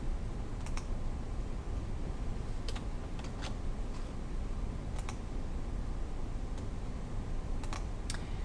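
Close keystrokes on a computer keyboard while entering a spreadsheet formula, scattered light clicks in short bursts over a steady background hiss.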